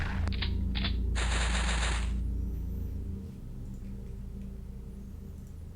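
A few short clattering bursts of automatic gunfire in the X-Com Files video game, the shots loud and close over a steady low game hum that continues after the firing stops.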